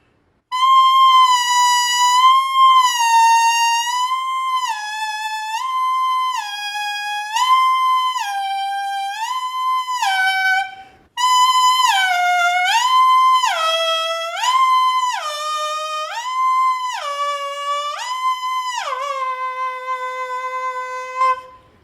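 A brass mouthpiece buzzes a clear pitched tone through an expanding interval exercise, alternating notes that widen step by step to a full octave, loud and close with a short break midway.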